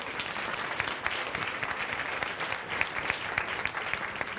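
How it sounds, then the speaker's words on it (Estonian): Audience applause at a 2018 leadership conference, a dense, steady patter of many hands clapping that holds an even level throughout, with no speech over it. "Aplaus, aitäh!"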